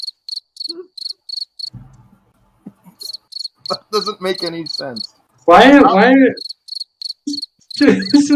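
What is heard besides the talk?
crickets chirping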